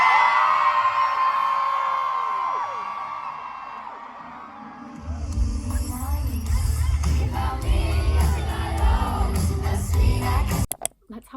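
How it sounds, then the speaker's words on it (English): A group of friends screams together, loud cheering and yelling that swells after a quieter start and holds steady for several seconds, then cuts off abruptly. "the louder you scream, the more I drink"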